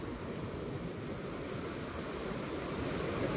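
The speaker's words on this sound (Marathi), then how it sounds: "लाट येते म्हणतोय आता" Sea waves washing up onto a beach, a steady low rushing surge of surf with some wind, building slightly louder toward the end, no voices.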